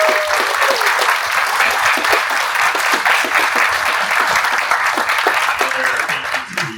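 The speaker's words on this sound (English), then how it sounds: "Can we give another big round of applause?" Sustained round of applause from a conference audience, many hands clapping steadily and briskly throughout, fading slightly at the end with a faint voice underneath.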